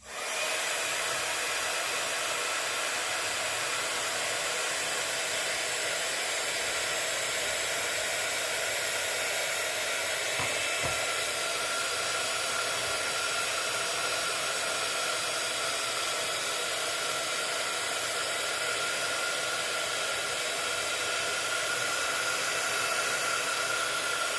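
A hair dryer runs steadily for over twenty seconds while drying paint on a decorated frame, a constant close airy roar and hiss with only slight shifts.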